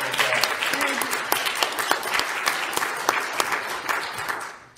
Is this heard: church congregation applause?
yes